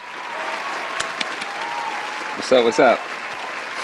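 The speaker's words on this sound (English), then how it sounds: "The crowd's going crazy." A live podcast audience claps and cheers for a DJ guest, with a steady wash of applause under a host's voice and a few louder bursts toward the end.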